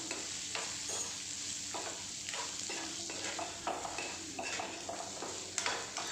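Guava chutney ingredients sizzle and sauté in a pan, with steady frying crackle and repeated stirring scrapes throughout, close and alone.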